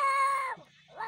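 A voice mimics a small baby crying and screaming, a short high wailing cry followed by a brief gap and a second rising wail.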